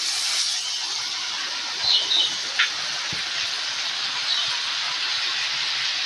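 Vinegar hits a hot pan of pork with a loud, steady sizzling hiss that carries on without a break, with a few faint clicks and taps along the way and no talking.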